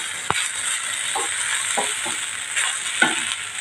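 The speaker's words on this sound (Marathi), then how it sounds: "परतून घेऊ, फ्राय करून घेऊ." Food frying in very hot butter and ghee in a pan, with a steady close sizzle and a few clinks and scrapes as it is stirred, no talking.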